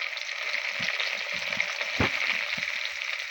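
Onion fries in hot oil with cinnamon, giving a steady bright sizzle with a few soft knocks and stirring bumps underneath.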